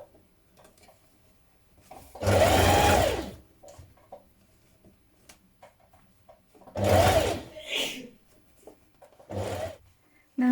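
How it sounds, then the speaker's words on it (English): Sewing machine stitching across the top of pleats on a fabric croissant bag, running in two loud bursts of about a second each with a shorter third run near the end, separated by quiet pauses. "So now I'm just stitching across the top of that to keep all those pleats in place."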